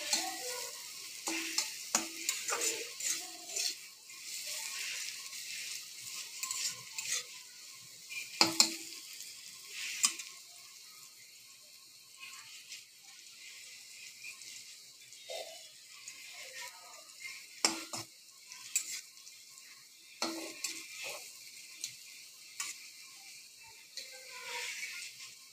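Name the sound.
potatoes frying in oil with chilli and cumin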